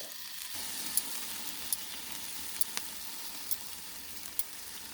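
Pork loin sizzles steadily on a Blackstone griddle, a constant soft frying hiss with occasional sharp pops and clicks breaking through.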